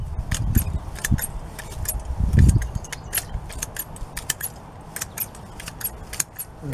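Freshly sharpened hand grass clippers snipping grass, a quick series of crisp metallic clicks and snips with rustling blades underneath, close and steady.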